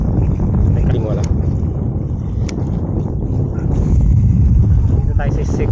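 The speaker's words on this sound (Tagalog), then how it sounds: "medyo malakas yung hangin" Strong wind buffets the microphone outdoors at a fishing spot, a constant heavy low rumble that never lets up across the whole stretch, with faint background sounds underneath.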